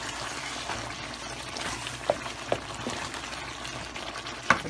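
Chicken fries in a handi over a high flame for a dhaba-style handi chicken. A steady, fairly quiet sizzle runs throughout, broken by a few small pops and spatters.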